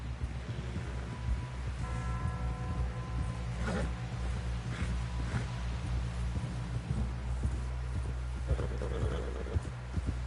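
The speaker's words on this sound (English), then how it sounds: "Someone help John down off this horse" Horse hooves galloping in Red Dead Redemption 2, rhythmic clip-clop with creaking tack and a brief whinny, steady and fairly close under game ambience.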